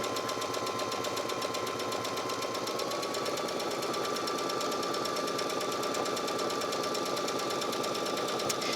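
Sewing machine stitching nonstop around the outer edge of a fabric circle for a makeup bag, a loud, close, even rattle of the needle with a steady motor drone throughout.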